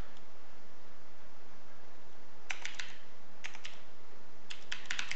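Java code is typed on a computer keyboard in the NetBeans editor, starting after a quiet pause with quick clustered bursts of clicking keystrokes, close and clear, with no voice over them.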